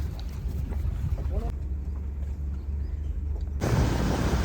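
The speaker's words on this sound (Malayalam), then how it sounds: "അപ്പോൾ ഞങ്ങൾ സ്പീഡ് ബോട്ടിൽ റൈഡ് പോവാണ്" A speed boat rides on the Alappuzha backwaters with a steady low engine rumble and wind buffeting the microphone, while voices talk faintly over it.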